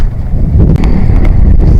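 Strong wind buffets the microphone on an open hillside by the Mahasu Devta Temple in Bisoi, Uttarakhand, a loud, steady low rumble with gusting swells and no voices.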